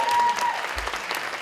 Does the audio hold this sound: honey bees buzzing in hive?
no